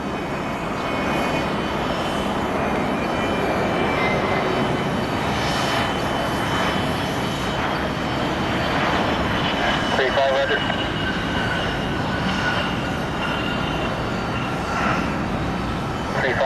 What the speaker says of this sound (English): Another executive jet.